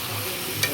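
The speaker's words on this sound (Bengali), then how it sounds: "তো এবার আমি একটু ফ্রাই করতে থাকবো।" Crabs fry with spices in a pan for kakra bhuna, giving a close, continuous hiss with a faint scrape of stirring and one small clink near the end.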